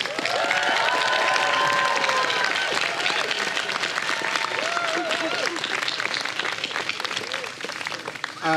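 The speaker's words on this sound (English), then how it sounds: "So one last round of applause for all of our graduates." Sustained audience applause and some cheering for graduates at a Stanford international relations diploma ceremony, a loud continuous roar of clapping with voices mixed in.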